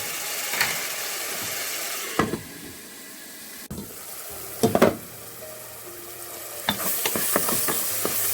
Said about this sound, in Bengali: আবারও পেঁয়াজ এবং টমেটো দিয়ে একটু ভালো করে কষে নেবো